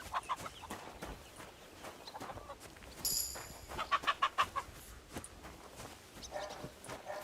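Chickens in a medieval fighting game cluck in short, repeated bursts at close range, with occasional higher squawks and a brief whistling bird call among them.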